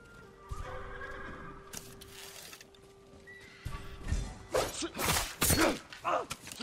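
Samurai horses at stables in the video game Ghost of Tsushima whinny and snort repeatedly, with a few hoof thuds and clops, growing louder and busier toward the end.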